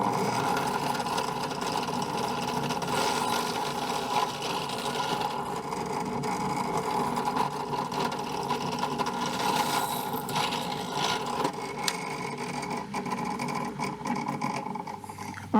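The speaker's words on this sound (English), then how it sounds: "Now I can drill the pass-through hole for the 256 screw." Drill boring a pass-through hole for a screw in a liner lock knife, a continuous whirring machine hum with a rough grinding texture and small irregular clicks, close and steady without speech.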